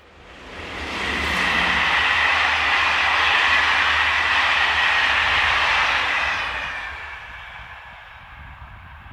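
A French Class BB 7200 electric locomotive and its train pass on a line between Paris and Orléans. The roar builds quickly, holds steady and loud for several seconds, then fades away as it recedes.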